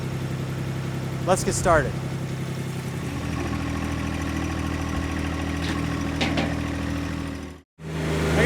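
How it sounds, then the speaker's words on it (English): A small New Holland Workmaster 25S tractor engine idles steadily throughout, a low continuous drone with a brief cutout near the end, while a person speaks briefly over it early on. "this little New Holland Workmaster 25S using its backhoe to dig out this stump."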